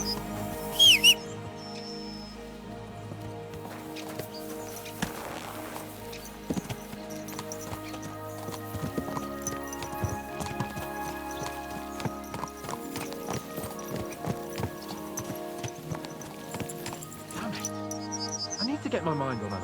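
Horse hooves clip-clop steadily in Kingdom Come: Deliverance II, a long even rhythm of hoof falls mixed with game music and ambient sounds, with a voice speaking over parts of it.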